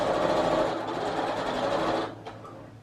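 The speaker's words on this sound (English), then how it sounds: "Start stitching." A sewing machine runs steadily, stitching fabric right along the edge of a piping cord, close and continuous, then stops abruptly near the end.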